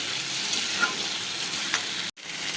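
Tomato, potato and spices sauté on medium-low flame in a pan for a fish curry, giving a steady close sizzle with light stirring, then a brief drop just before the end.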